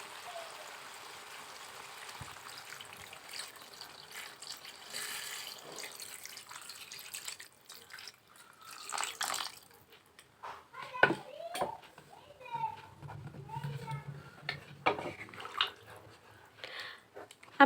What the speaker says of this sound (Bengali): এবারে এর ভিতরে একটু জল দিয়ে দিব।